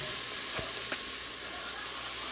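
Cut-up Hickory Farm sausages sizzling in a pan with seasoning, a steady bright frying hiss with a couple of soft stirring knocks, no talk.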